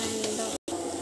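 Chili and turmeric powder fry in hot oil in a pan, giving a brief, steady, loud sizzle with a momentary cut-out midway.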